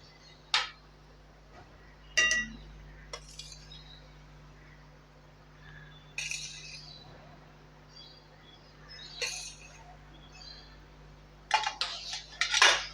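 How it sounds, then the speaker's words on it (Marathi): Grated paneer for kalakand is stirred in a pan over high heat: sparse, intermittent clinks and scrapes of a utensil against the metal, close and fairly quiet, separated by near-silent pauses. "हे सारखं ढवळत राहायचं आहे"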